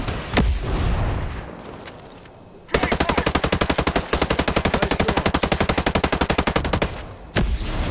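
Rapid sustained automatic gunfire in the Ghost Recon Breakpoint video game, a loud rhythmic burst lasting several seconds, preceded by a few single shots and a low rumble.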